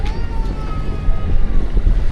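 A sailing yacht heads out of Torrevieja harbour into the Mediterranean toward Alicante, with a steady rush of wind and water and a low rumble filling the air close by.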